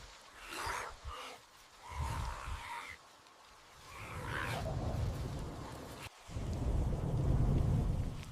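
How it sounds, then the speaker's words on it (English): A sudden tropical downpour, with heavy rain hissing steadily while deep rolls of thunder rumble and build, growing louder toward the end. "In the midst of a sudden tropical downpour"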